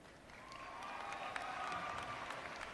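Graduation ceremony audience applauding, a soft, distant wash of many hands clapping that swells slightly and holds steady, with a faint whistle or cheer tone running through it.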